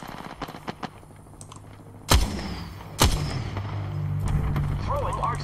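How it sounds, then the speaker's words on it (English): Apex Legends gunfire hits as two sharp, loud shots a second apart over a steady game background, with soft keyboard clicks beforehand and faint game voice chatter near the end. "I am taking fire, friends."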